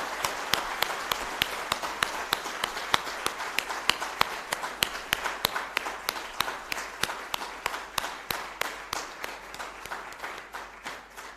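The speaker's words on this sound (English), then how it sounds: "give a good round of applause for our 2 founders and all lecturers of our department" Graduates at a felicitation ceremony applaud their department's founders and lecturers with steady, rhythmic clapping that continues throughout, gradually thinning and fading toward the end.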